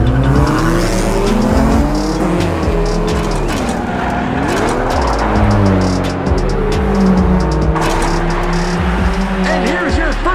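Custom diecast Hot Wheels cars race down a track with a steady, loud roar that sweeps in pitch, likely overlaid racing engine sounds, continuous throughout with speech-like tones mixed in.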